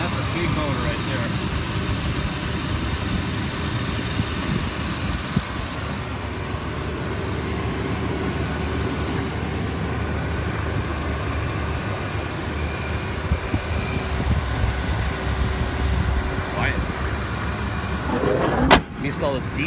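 A 2001 GMC Sierra with a big diesel engine running steadily, a continuous low rumbling drone that stays level throughout, up close, with a sharp clunk near the end.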